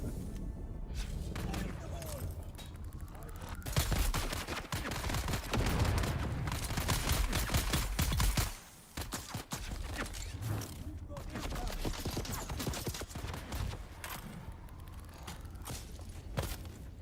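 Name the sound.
machine gun fire in the video game Dune Awakening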